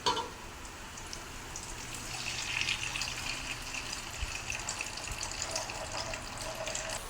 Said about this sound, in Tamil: இப்போ கரைச்சி வச்சுக்கிற புளி சேர்த்திக்கலாம்.